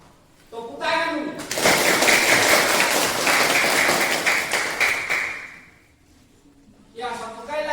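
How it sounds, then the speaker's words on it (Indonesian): A classroom of children claps their hands together in a loud, sustained round lasting about four seconds, bracketed by a teacher's voice speaking before and after. "Tepuk tangan dulu."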